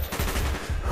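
Gunfire in the video game Call of Duty Black Ops, a short burst of rapid shots in quick succession, loud and close, with no voices.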